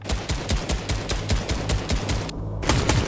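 Rapid automatic gunfire from shooting enemies in a video game, a dense stream of loud, regularly spaced shots running throughout, with a brief dropout near the end before the firing resumes.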